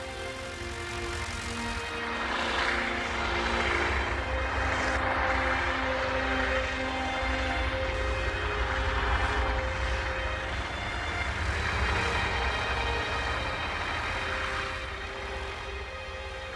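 A World War II B-29 bomber taxis across a frozen lake toward the runway end, its piston propeller engines droning loudly and steadily, swelling and easing slightly as the plane rolls over snowdrifts, with no talk.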